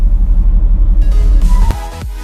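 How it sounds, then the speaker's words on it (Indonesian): A 2016 Mercedes-AMG GT S engine gives a loud, deep pulsing rumble as the car pulls away, the throb steady up close before easing into a shift-like change near the end. "Suara mesin yang begitu meningkatkan adrenalin"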